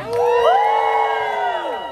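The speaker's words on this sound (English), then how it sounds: "Keep clapping. And here goes Cap, doing it in slow motions for your convenience. Somebody scream" An audience at a Polynesian show in Hawaii cheers and screams, a loud sustained shout that swells and slides in pitch before easing off at the end.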